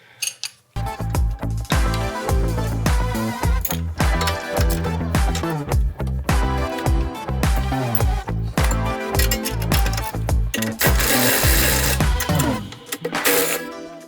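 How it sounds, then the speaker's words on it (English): Large bolts on a Tesla Model Y rear suspension are loosened with a 13/16 socket and wrench during a coilover install, giving a rapid, loud run of metallic ratcheting clicks and clanks with a few short pauses. "we're going to use a 13/16 socket along with a 13/16 wrench"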